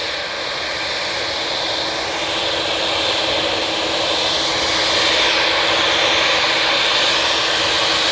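A Boeing 787 Dreamliner jet departs Manchester Airport, a loud, steady broadband engine roar that swells slightly toward the end, heard alone without talk.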